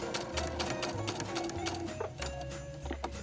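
A sewing machine stitches fabric for Christmas tree napkins, its motor whirring in steady bursts with brief pauses between runs. The stitching sounds close and carries along on its own with no voices.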